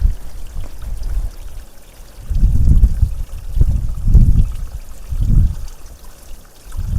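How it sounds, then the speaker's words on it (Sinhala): Spring water pours and gurgles into containers at a roadside spring in the hills of Riverston, Sri Lanka, in loud, close surges that swell and fade in a repeating rhythm. "අපි ඉතින් මෙතනින් වතුර එක්ක පුරව ගන්නවා"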